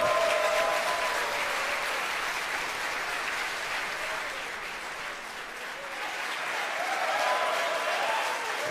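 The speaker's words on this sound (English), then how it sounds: "you hear the applause here from SpaceX headquarters in Hawthorne, California" Sustained applause from a crowd in a large room at SpaceX mission control in Hawthorne, California, after a rocket's stage separation, steady and loud throughout, with clapping swelling slightly near the end.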